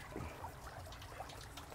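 Water overflowing at a catfish pond trickles and dribbles in a soft, continuous patter, close and quiet, with no talking.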